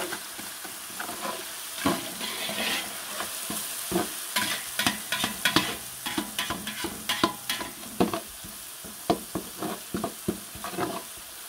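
Onions fry in ghee in a pot with a steady sizzle, and a spoon scrapes around the pot in many sharp clicks. The stirring is close and frequent and no one speaks.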